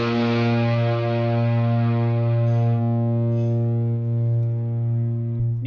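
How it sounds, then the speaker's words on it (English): A held electronic tone with a strong reverb effect applied, making it ring as if played in a large room; steady and loud, sounding alone without talk. "it's going to sound like it's in a big room"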